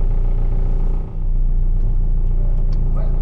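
Car engine on a race circuit, a loud close rumble that dips briefly and then rises again as it revs, with faint higher noises near the end.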